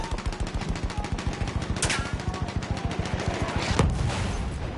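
Rapid machine-gun fire rattles nonstop in the video game Battlefield 1, dense evenly spaced bursts close by, punctuated by a couple of louder sharp blasts, with no talk over it.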